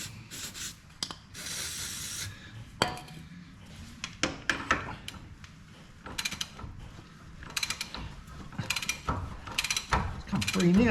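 A shock absorber U-bolt nut being loosened by hand with a wrench, giving repeated metallic ratcheting and scraping clicks in irregular bursts, close and moderately loud, with no talk.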